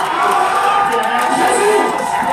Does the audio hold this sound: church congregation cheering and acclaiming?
yes